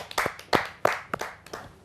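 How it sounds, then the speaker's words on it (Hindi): Several distinct, sharp hand claps at a Hindi kavi sammelan poetry gathering, about five or six spaced strikes ringing out fairly close over a quiet room. "आइए आप सबकी जोरदार तालियों से डॉक्टर अश्वनी भांजी"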